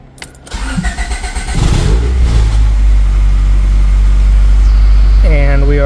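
A car with a replaced P28 engine computer cranks with a few rapid turns, catches, and settles into a loud, steady idle with a brief whine near the end.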